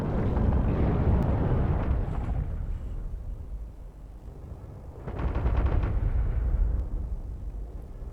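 Automated artillery in the game Factorio fires shells, producing a sustained rumbling barrage of deep explosive thuds that eases off midway and then swells again into another loud volley.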